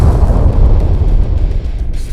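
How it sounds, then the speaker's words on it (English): A deep, rumbling boom of an explosion just outside a building rolls on steadily as a dense low roar without a clear sharp onset, loud and close. "there seems to be an explosion right outside the Tim Testy Test Center"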